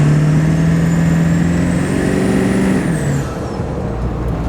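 A tuned 7.3 Powerstroke diesel pickup with a 65 horsepower performance chip drives along, heard loud and close from inside. The engine drone climbs steadily and then drops cleanly as the transmission shifts near the end.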